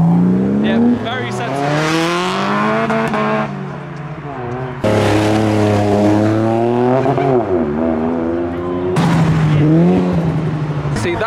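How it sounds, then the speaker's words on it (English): Modified Toyota Supra leaving a Japanese car meet in Reading, its engine loud and close, revving and rising through the gears in several long pulls with tire noise, while people talk over it. "the Supra's leaving"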